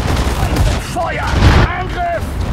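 Gunfire and explosions in the World War II strategy game Sudden Strike 4 during the Stalingrad battle, a dense continuous rattle of shots and booms with shouted voice commands over the top.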